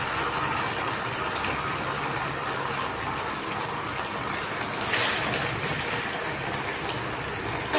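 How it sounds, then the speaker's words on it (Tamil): Masala fish frying in hot oil in a pan, a loud, steady hiss and sizzle that continues evenly with a slight surge near the end, no voices. "எண்ணெய் ஹீட் ஆகிடுச்சு. நம்ம மீனை பொரிச்சிக்கலாம்."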